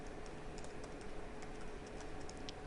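Steady clicking of typing on a computer keyboard while writing code, a continuous run of quick, close keystrokes with uneven rhythm and no voices.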